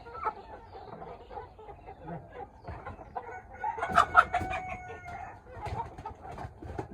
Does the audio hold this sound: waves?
no